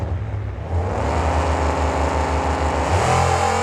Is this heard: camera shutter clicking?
no